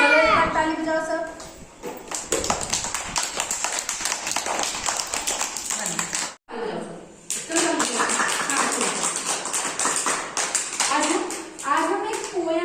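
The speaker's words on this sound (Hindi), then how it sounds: "चलो एक बार ताली बजाओ सब।" Children in a classroom clap loudly in rapid bursts, with a short pause in the middle before the clapping resumes. Kids' voices mix in with the claps.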